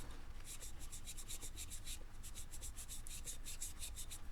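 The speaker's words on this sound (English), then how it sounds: "And then you just rub back and forth, intensifying that color." Acrylic paint is rubbed back and forth on a ceramic piece in a quick, even run of soft scratchy strokes, close and faint, with no talking.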